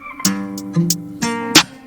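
Hi-hats falling on the beat in an FL Studio guitar beat, crisp ticks landing evenly over a sustained guitar loop; short, loud and without any talking.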